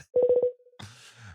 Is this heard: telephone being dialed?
yes